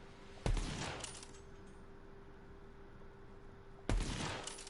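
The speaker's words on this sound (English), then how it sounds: "I like the sound of the sniper rifle." Two loud sniper rifle shots ring out in Borderlands, a few seconds apart, each a sharp crack followed by a long rumbling tail that fades slowly, with a faint steady hum underneath.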